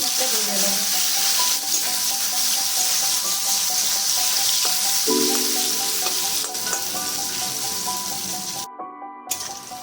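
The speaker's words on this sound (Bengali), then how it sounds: "ওই তেলের মধ্যে বেগুন" Eggplant pieces sizzle in hot mustard oil, a continuous close frying hiss with occasional spatula stirs and clinks, fading slightly toward the end after a brief drop.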